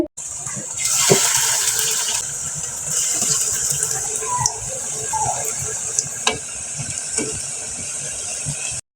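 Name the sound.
spinach leaf pakora batter frying in hot oil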